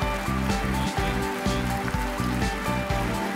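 A sudden rainstorm in a golf video game makes a loud, steady wash of falling rain on a surface, with a repeating rhythmic pattern underneath and no speech.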